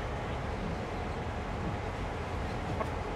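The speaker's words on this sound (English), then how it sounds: "These windscreen wipers almost sound like a steam train." Windscreen wipers in a diesel freight locomotive cab in Train Sim World, heard as a steady, dense chuffing wash with no clear individual strokes, continuous and fairly loud.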